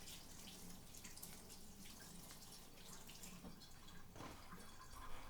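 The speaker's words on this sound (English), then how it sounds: "Wash my pepper off." Tap water running steadily while a pepper is rinsed in a kitchen sink, a faint continuous splashing hiss with a small burst near the end.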